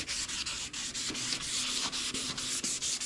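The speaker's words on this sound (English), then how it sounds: "So I'm gonna keep working this 400 grit till I get it looking like I want." Steady hand sanding with 400 grit sandpaper, quick back-and-forth strokes in a continuous scratchy rhythm, close and fairly loud, no voices.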